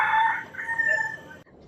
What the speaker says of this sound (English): The little roosters